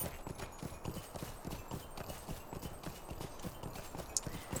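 Horse hooves clip-clop in a quick, steady rhythm with jingling tack as a horse is ridden in a video game, heard close and moderately quiet, with a single sharp ring near the end; no talking.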